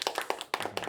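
A church congregation at a Tuesday prayer meeting, held in a company office, claps hands together in a short burst of quick, uneven claps, fairly close and without voices.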